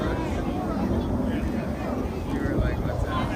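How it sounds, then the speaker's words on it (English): Distant roar of the Blue Angels four-jet diamond formation approaching at an air show, a broad rumbling wash with wind noise, while an announcer talks over it. "The Blue Angel Diamond will momentarily be making its approach from the right."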